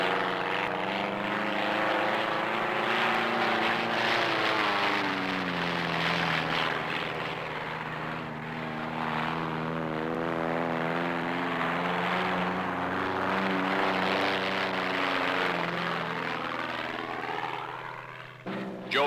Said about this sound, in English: his super steerman, a 600-horsepower brute of an airplane